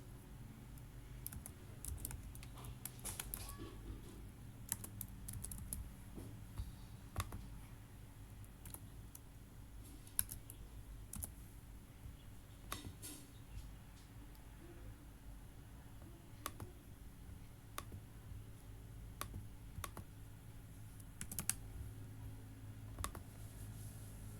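Username and password typed on a computer keyboard, soft irregular key clicks tapping steadily at moderate distance over a faint room hum, with no one speaking.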